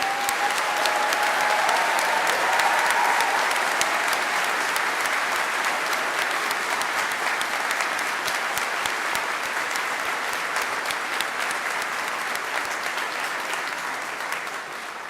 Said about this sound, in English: Shall we have a round of applause for our graduates?